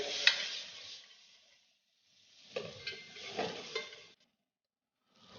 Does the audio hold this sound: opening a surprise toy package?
no